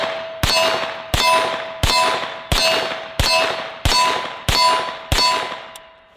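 A Hi-Point carbine firing cheap ammunition rings out in eight sharp, evenly spaced shots, each a loud crack with a metallic ring that decays before the next round.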